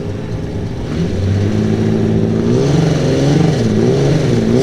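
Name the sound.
mod light speedway race car engine revving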